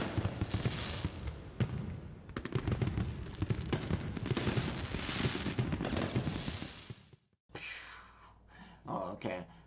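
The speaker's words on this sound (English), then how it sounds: "So I'm going to go ahead and celebrate it now with fireworks." A fireworks sound effect plays as a celebration, giving dense crackling bursts and rapid pops for several seconds, then a short pause and a few scattered louder crackles, loud and near.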